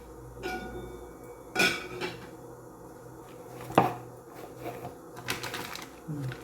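A metal plate set down in a kitchen while breakfast is cooked, giving a few sharp clattering knocks at about 1.6 and 3.8 seconds, moderately near, among quieter scraping and handling noises.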